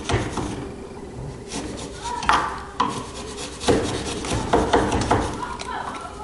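A chisel scrapes out a wooden mortise joint, giving close, irregular rasping scrapes and knocks, while a voice can be heard talking at times.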